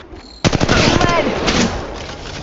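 Rapid automatic gunfire in the game Apex Legends bursts in after a short quiet start, loud and close, firing in a fast stuttering string of shots that carries on for about two seconds.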